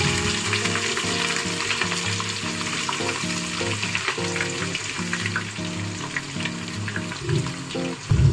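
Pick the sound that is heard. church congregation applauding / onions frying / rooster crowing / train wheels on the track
onions frying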